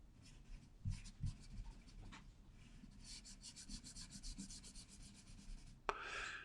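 Pencil drawing and shading on paper during a figure drawing session: soft, close scratching and rubbing strokes, rhythmic back-and-forth hatching that grows denser midway, with a sharper stroke near the end and no talking.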